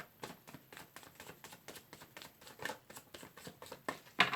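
Rapid, crisp riffling of tarot cards being shuffled, repeated in quick bursts, close and fairly quiet, ending with a sharper flurry.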